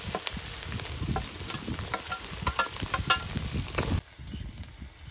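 A spice paste of cumin and coriander with chopped tomato, dried chilli paste and a splash of water fries in a pan with a steady sizzle and scraping stirs, then drops quieter near the end.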